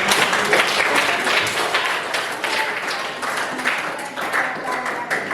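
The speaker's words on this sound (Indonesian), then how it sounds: "Mari kita beri aplaus pada" Applause breaks out in a classroom for a student group finishing its presentation, a dense steady clatter of many hands clapping nearby throughout, with some voices mixed in.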